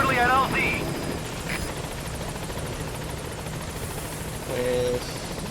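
A helicopter approaches a landing zone in Metal Gear Solid V, its steady rotor drone running throughout under brief radio-style voices at the start and end.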